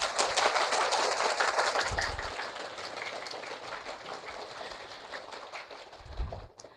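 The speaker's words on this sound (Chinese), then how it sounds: "让我们以热烈的掌声欢迎一下戴老师" Applause from a seated audience at a Shenzhen art museum salon, dense broadband clapping filling the space, loud at first then gradually thinning, with no one speaking over it.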